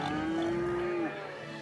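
A single long cow moo in the city-building game Cities Skylines, heard from a farm district. It is clear and sustained for about a second, then fades into low ambient game noise.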